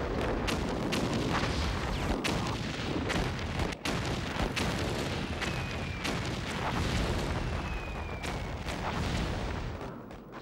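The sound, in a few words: artillery shells exploding at Verdun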